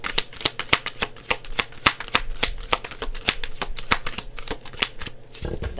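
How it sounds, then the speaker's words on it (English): A deck of oracle cards is shuffled, a rapid, crisp series of riffling card snaps in steady rhythm, close and fairly loud, with a soft thump at the end. "I'll do a good shuffle."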